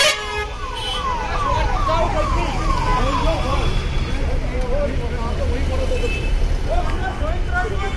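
An ambulance siren wails in repeated rising and falling sweeps while the vehicle sits stuck in a traffic jam in Thathri town, loud and close over idling traffic, with horns tooting and people talking around it.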